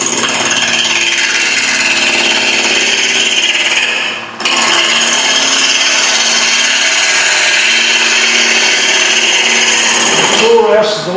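A wooden sphere spins on a wood lathe while a gouge cuts it round, producing a loud, continuous scraping hiss. One brief pause breaks the cutting, and a voice speaks over it.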